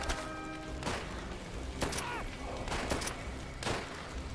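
Gunfire from a weapon in the World War II shooter Call of Duty: World at War, several loud sharp bursts spaced irregularly over constant battle noise, with no talking.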